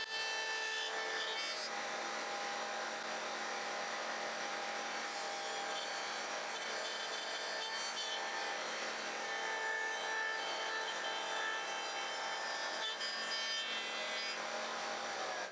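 Router bit steadily cutting a wood piece on a table saw jig, a faint continuous whirring grind with a steady high whine that holds for the whole stretch, with no talking.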